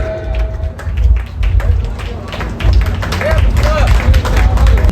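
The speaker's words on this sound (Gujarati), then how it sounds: "આપણે બધા તાળીઓના ગરગડાટથી વધાવી લઈએ" A crowd at a gathering on the Ambaji pilgrimage walk claps in dense, steady applause to welcome guests, with someone speaking over it.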